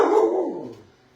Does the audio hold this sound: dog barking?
yes